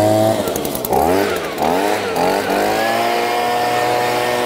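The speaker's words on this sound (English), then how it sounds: "This little handheld here, the BG55. This thing blows leaves far." A handheld BG55 leaf blower runs loud and close, its small two-stroke engine revving up and down in several quick surges before settling into a steady high whine.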